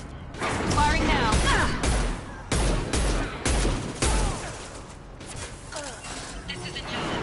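Bursts of weapon fire in the Mass Effect 2 video game, loud repeated volleys and thuds in uneven clusters, with a voice speaking over the action at times.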